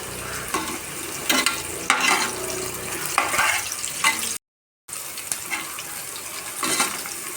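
Garlic and browned onions frying together in a pan sizzle loudly and close, with a constant hiss and several scraping stirs of a spoon, broken by one brief moment of silence.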